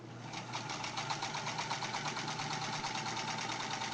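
Sears Model 28 sewing machine running continuously while its stitch length is changed, a fast steady mechanical clatter with even rapid ticking rhythm, fairly quiet and close, no talking.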